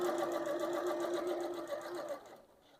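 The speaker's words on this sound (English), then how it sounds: "the needle is staying in the same position before it continues to sew" A Janome sewing machine runs a steady stream of rapid stitches, close and fairly loud, with an even mechanical rhythm that stops abruptly near the end, leaving quiet room tone.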